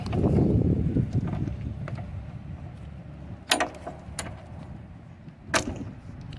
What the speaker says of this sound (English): You just gotta shake them out to get them out, and they'll come on out.